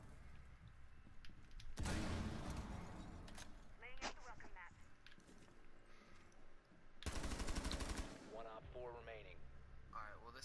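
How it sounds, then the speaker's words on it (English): Two loud, sustained bursts of automatic gunfire in Rainbow Six Siege, with voices talking in between and over the shooting. "Did you actually shoot me?"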